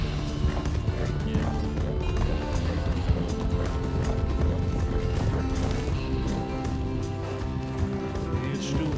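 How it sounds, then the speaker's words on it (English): Hooves clip-clop in a quick running rhythm over a busy, layered soundscape in the WildRP roleplay game, with a saddled horse whinnying briefly amid the clatter. "Saddled horse at the barn."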